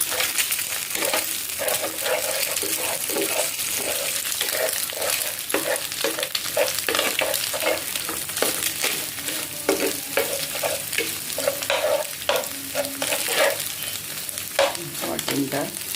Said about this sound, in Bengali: দিয়ে ডিমগুলো একটু ভালো করে নাড়তে হবে যাতে জমাট বেঁধে না যায়